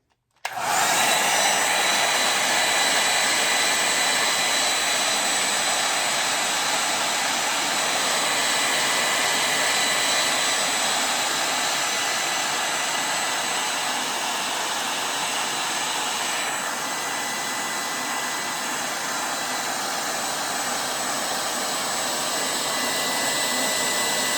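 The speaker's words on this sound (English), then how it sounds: "now I'm gonna get my hair dryer and I'm just going to blow it until it dries" A hair dryer blowing continuously at full power to dry alcohol ink artwork, a loud steady whirring rush that runs without pause from start to finish.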